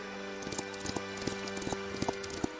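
Clip-clop of a white horse's hooves at a gallop, an irregular run of sharp strikes over a faint steady background hum, moderately close and with no talk.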